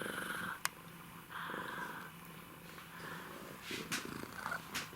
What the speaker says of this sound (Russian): Мурчащий, мурчащий.